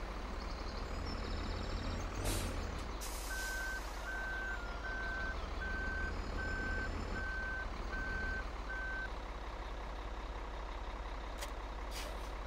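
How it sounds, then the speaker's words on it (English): Big truck reversing in Farming Simulator 2013, with a steady series of evenly spaced reversing beeps over a constant loud diesel engine drone and a brief hiss of air brakes early on. "we'll get our big beast of a truck over there as well"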